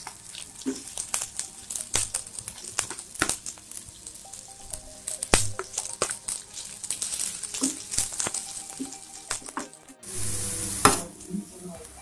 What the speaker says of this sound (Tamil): நெய் சூடானதும் இந்த வெங்காயம் கருவேப்பிலை போட்டு நல்லா ஃப்ரை பண்ணிக்கணும்